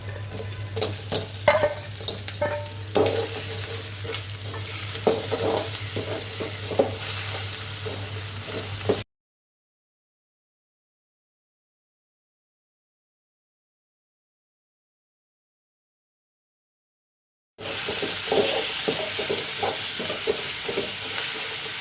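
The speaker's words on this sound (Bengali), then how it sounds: "পেঁয়াজ একটু নেড়ে চেড়ে এবার কাঁকড়াগুলো দিয়ে দিচ্ছি।" Crabs sizzle and fry in a pan with onion while being stirred, a steady close hiss with scraping stir strokes, cut by a long stretch of silence before the frying resumes.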